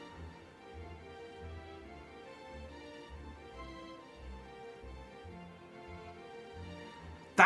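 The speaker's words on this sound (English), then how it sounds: "when you're going up through the elevator, the turrets play an Italian aria" Turrets from the video game Portal 2 sing an Italian aria during the elevator ride, a soft, quiet operatic melody over steady, pulsing low accompaniment that plays throughout, ending in a brief louder burst.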